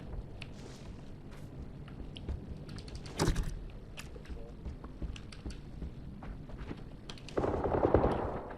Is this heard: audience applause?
no